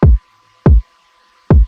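Three hard, punchy kick drum hits from a UK drill beat built in FL Studio, pushed through a soft clipper, spaced unevenly in a bouncing pattern with a faint sustained tone between them.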